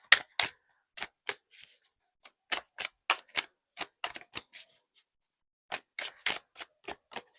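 Tarot cards are shuffled and pulled: quick crisp clicks and snaps arrive in irregular bursts with brief silent gaps, close and clear, with no talking.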